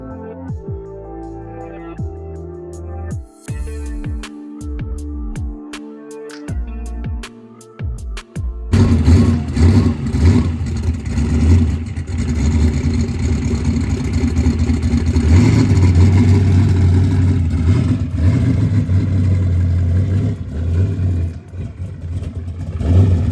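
A vehicle engine at a dirt track race shop cranks over and catches after a stretch of quieter clatter, then runs loud and steady, revving up and holding high for a long stretch with no talk.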